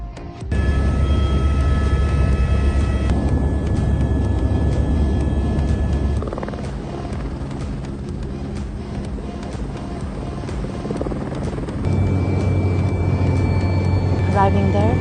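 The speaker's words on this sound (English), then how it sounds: "We took a ride in this H-125." An Airbus H125 helicopter in flight gives a loud, steady drone of engine and rotor with a tonal whine, recorded from close up. The engine level drops for a stretch and then rises again, and people talk over it.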